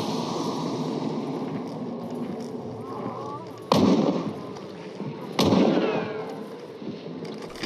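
Gunfire in the video game Hunt: Showdown, with two sharp, loud shots a couple of seconds apart standing out over a steady background of game ambience.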